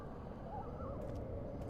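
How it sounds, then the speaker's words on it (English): A bird calls in the game Amnesia: The Dark Descent, a faint wavering warble heard twice over a steady, low, droning ambient rumble, distant and quiet. "That was a bird."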